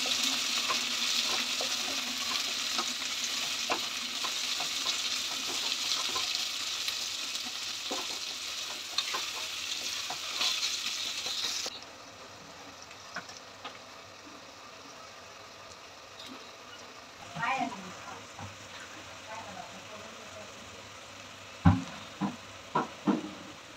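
Onion frying in oil in a pan, a loud, steady hiss of sizzling that suddenly drops to a much quieter bubbling, broken by a few soft clinks and scrapes near the end.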